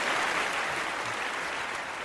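A crowd applauding, with dense, even clapping at a steady loudness from start to finish.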